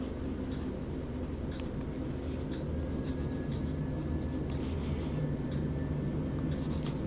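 Noodler's Boston safety fountain pen writing on paper with ink containing metal particles, a soft continuous scratching close by under a steady low background hum, no talking.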